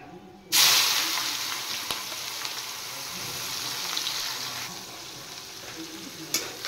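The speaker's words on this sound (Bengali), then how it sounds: "এবার পেঁয়াজগুলো একটু লাল করে ভেজে নেব" Chopped onions dropping into hot oil with whole garam masala and mace, bursting into a loud steady sizzle that holds evenly throughout, with faint stirring knocks and a brief clatter near the end.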